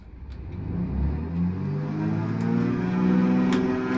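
Twin engines of a Cessna 310 in a flight simulator game powering up for takeoff, a rising rumbling drone with climbing tones that grows steadily louder, heard alone without talk.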